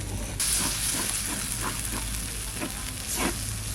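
Spice masala frying in oil for an egg curry sizzles and hisses steadily in a pan, with soft scraping strokes of stirring recurring at a regular rhythm.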